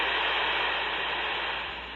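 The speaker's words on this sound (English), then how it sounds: "Now you can hear all that background noise and static." Steady hiss of static from a Baofeng UV-5R handheld radio with the squelch turned off, a constant loud wash of background noise with no voice, easing slightly at the end.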